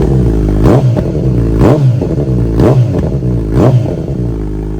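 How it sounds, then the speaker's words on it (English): A Kawasaki Z900RS motorcycle idles loudly and close with a rough, throbbing beat, and its engine revs sharply four times in an even rhythm. "wow, this bike sounds absolutely savage."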